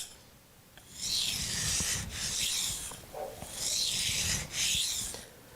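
A blade is drawn across a coarse sharpening stone with firm pressure, making four long rasping strokes in a regular back-and-forth rhythm, close and fairly loud, with no talking.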